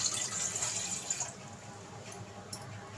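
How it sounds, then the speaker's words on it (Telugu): Water pours steadily into a glass for about a second, a bright trickling stream that then stops, leaving faint drips and quiet room noise, in a kitchen while making moong dal fritters. "ఇప్పుడు ఈ గ్లాస్ నిండా వాటర్ పోసుకుందాం"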